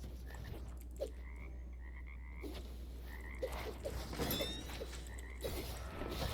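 Frog croaking in the Hytale video game, a run of short, repeated croaks at an irregular pace over a constant low game hum, fairly near and moderately loud, with no talk.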